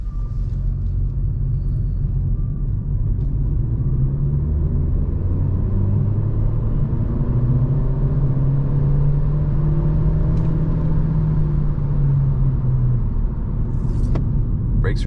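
A 2023 Renault Clio E-Tech 145 hp full hybrid pulls away under full throttle at night, a loud, steady cabin rumble carrying a rising engine whine that climbs smoothly for most of the run.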